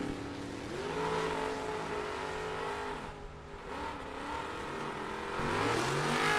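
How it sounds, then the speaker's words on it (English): Drag racing cars at a dragway, including a Chevrolet Camaro, in Super Pro bracket racing: a sustained, fairly loud engine roar that dips briefly in the middle and swells again toward the end. "So Mason, Williamson doing battle at the stripe"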